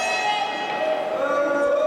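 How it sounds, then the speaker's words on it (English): A referee rings the ring bell at a professional wrestling match, making a bright metallic clanging that rings on and fades slowly over a faint arena background. "Referee's ringing the bell."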